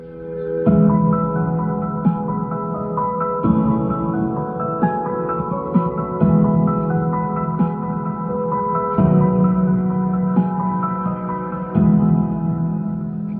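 Intro music plays through upgraded front door speakers in a Dodge RAM pickup, a steady, full tune with strong low notes and repeating phrases, loud and continuous throughout with no voices.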